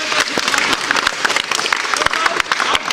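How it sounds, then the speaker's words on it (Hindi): Loud, energetic applause from a crowd at a company event, dense clapping with sharp individual claps standing out, continuous for the full few seconds with faint voices mixed in. "जोरदार एक ताली"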